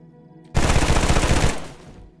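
Suppressed automatic gunfire in the DayZ survival game, a rapid dense burst of muffled shots lasting about a second, loud and close, then fading with a short tail; no talking.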